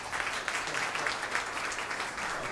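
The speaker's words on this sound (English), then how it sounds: "So give him another round of applause." Sustained applause from an audience at a South Carolina Sound Money Committee meeting on gold and silver as money, a steady dense patter of many hands clapping throughout with no talk over it.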